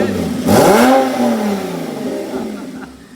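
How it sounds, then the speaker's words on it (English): A Porsche 987 Cayman exhaust revs once sharply, the engine note climbing and then easing back down into a lingering lower drone, loud and close with no talk over it. "What do you think of my exhaust, Mike?"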